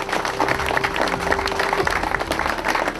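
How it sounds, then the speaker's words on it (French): Audience at a sports club's fiftieth anniversary applauds Serge Courant: brisk, fairly close clapping from a modest crowd, with a sustained tone and some low background murmur mixed in. "On peut l'applaudir."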